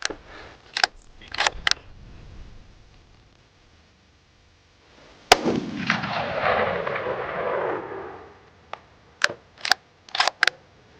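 Rifle shots from a Ruger American Gen 2 .308 at an outdoor range: a few sharp, loud reports with one big blast ringing out into a long echoing decay, plus lighter clicks of handling.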